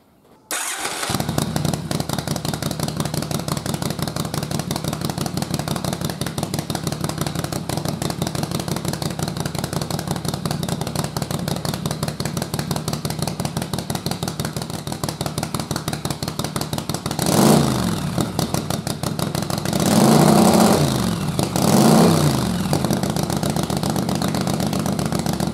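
A single-carb Yamaha Virago V-twin motorcycle engine fires up and keeps running, a loud, steady, close idle with lumpy rhythmic chugging that swells briefly in revs near the end.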